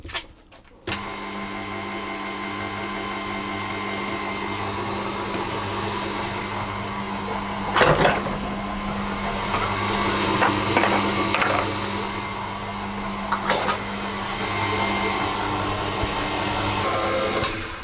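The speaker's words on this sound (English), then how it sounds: "I'm going to turn the speed up to a medium speed, and I'm going to knead it for 10 minutes" An electric stand mixer kneads doughnut dough at medium speed, a loud steady motor whine with an even hum throughout, broken by a few knocks and clunks, no talk.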